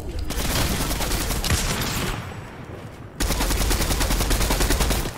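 Rapid automatic gunfire from an assault rifle in a Fortnite match, loud and continuous bursts that briefly thin out midway before a dense volley resumes, with no talk.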